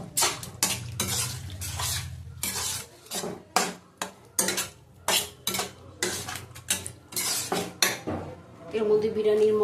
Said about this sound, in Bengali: আবার ভালো করে কষিয়ে নেব।